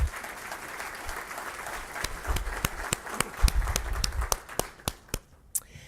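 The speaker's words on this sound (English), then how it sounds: "Please give her a good round of applause." An audience at the Bakersfield Real Estate Forecast Breakfast gives a round of applause. Scattered individual claps build into a modest patter from a mid-sized room, then thin to a few sharp last claps.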